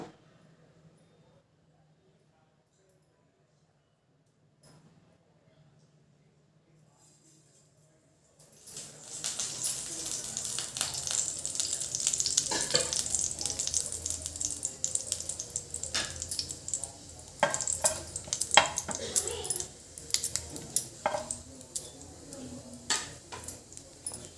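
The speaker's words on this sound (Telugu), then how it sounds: "ఆయిల్ హీట్ ఎక్కినాక జీలకర్ర వేసుకున్నాము" Cumin seeds drop into hot oil for dhaba-style egg keema masala, and after several seconds of near silence a sudden continuous crackling sizzle begins, mixed with occasional clinks of a utensil against the pan.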